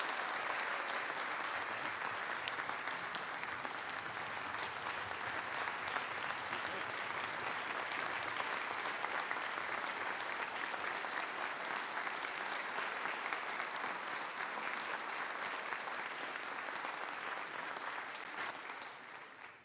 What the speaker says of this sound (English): If we could offer Mr. Leonard a warm round of applause.